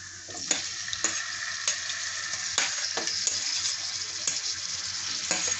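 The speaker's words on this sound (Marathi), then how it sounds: "पेटा आणि चिकनचे पीस ॲड करूया" Steady sizzling of liver and chicken pieces frying with masala in a pan, with repeated clicks and scrapes of stirring throughout, fairly close and with no talking.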